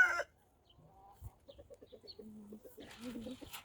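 A rooster named Petya gives a run of rapid, rhythmic low clucks at moderate distance, growing louder and busier toward the end after a brief sharp noise at the start.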